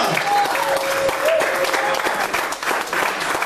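Church congregation applauding continuously at a worship service in Spanish, a steady dense roar of clapping with voices mixed in and a brief tonal whistle or cheer riding over it.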